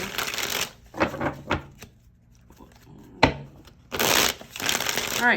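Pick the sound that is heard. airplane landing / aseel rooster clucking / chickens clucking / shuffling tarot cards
shuffling tarot cards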